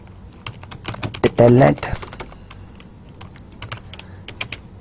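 Keys on a computer keyboard click in irregular bursts at close range while someone briefly speaks between the taps.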